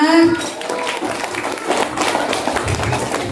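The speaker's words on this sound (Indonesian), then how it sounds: "tepuk tangan untuk kalian semua" A class bursts into brief clapping and tapping, a dense patter of hands mixed with a few thumps, while a voice speaks at the start.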